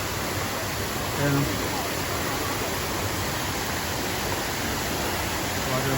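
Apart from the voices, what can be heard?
Shifen waterfall in Taiwan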